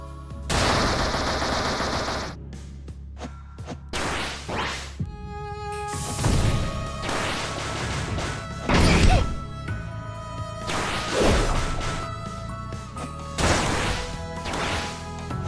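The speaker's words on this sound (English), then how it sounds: "Oh no, my bombs work just fine." Bombs repeatedly burst in the action game TEVI, a series of sharp, crunchy blasts and rapid impacts clustered over several seconds, loud and close, layered over steady tonal game music with no voices.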